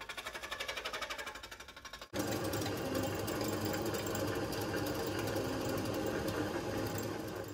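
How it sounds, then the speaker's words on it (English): A milling machine, fed by hand, cleans up mating surfaces on a Kawasaki Z1 crankcase. After a quieter mechanical whir, a loud, steady grinding drone with a fast buzzing texture kicks in abruptly and runs continuously up close. "I start the milling process to clean up the surfaces so that the additional piece of crankcase will mate up perfectly for welding"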